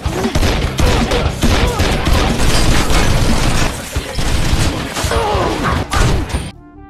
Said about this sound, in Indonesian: hingga aksi tembak-menembak pun tak bisa terhindarkan